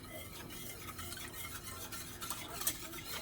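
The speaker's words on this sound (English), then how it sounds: "whisk this all together" Sauce ingredients for a crockpot General Tso's chicken are whisked together in a bowl, with a steady, continuous scraping and stirring that stays close and fairly even, rising into a brief clink near the end.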